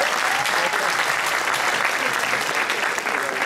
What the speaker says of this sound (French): Les mecs, vous avez le droit de vous applaudir